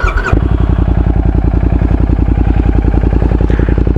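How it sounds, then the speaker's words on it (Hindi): A Royal Enfield GT 650 motorcycle engine cold-starts with a brief burst of cranking, then settles into a loud, steady, even idle thrum close by, with no talking. "कोल्ड स्टार्ट देना यार बहुत ज़रूरी है, स्पेशली इन कोल्ड कंडीशंस में तो ज़रूरी है"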